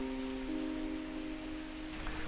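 Unseasonal rain falling on a small garden patio in Bangalore, a steady soft hiss of drops heard alone, with a faint low hum running underneath.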